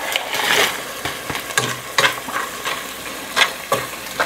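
Pork belly sizzles in a pan while being stirred, with scraping strokes and bursts of spattering fat in an irregular rhythm, close and alone.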